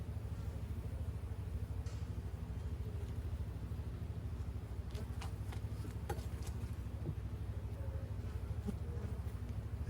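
A continuous low buzz of calm honeybees fills the air around an open hive, steady and close, with occasional faint clicks.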